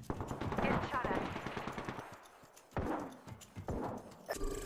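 Rapid automatic gunfire in the game Apex Legends crackles in dense bursts, pausing briefly before another volley, with game voice lines around it.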